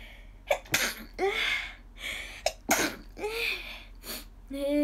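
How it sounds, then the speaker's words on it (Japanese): Two sharp sneezes from a woman with hay fever, about two seconds apart, close and fairly quiet, each followed by a short breathy vocal sound. "くしゃみです。"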